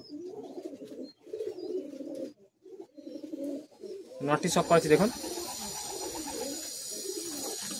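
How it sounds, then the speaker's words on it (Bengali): Andhra pigeons coo in a loft, soft repeated low cooing calls near the listener, with someone talking over them and a louder burst of cooing and flutter toward the end. "খোলা লাইনে পায়রার আর নতুন জোড়া দেখাচ্ছি দেখুন"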